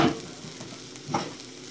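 Sausage and peppers sizzle faintly in a pan as they are stirred and tossed, with two soft bursts of scraping and sizzling over a quiet, brief stretch.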